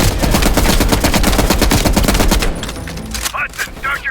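Heavy machine gun fire in Call of Duty Black Ops, a loud rapid burst of evenly spaced shots lasting a few seconds, then scattered explosions and gunfire trailing off.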